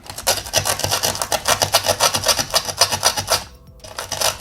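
Steel tool scraping surface corrosion off parts of a TomyTronic 3D Thundering Turbo tabletop game: a rapid, steady back-and-forth rasping, close and fairly loud, with one short pause near the end.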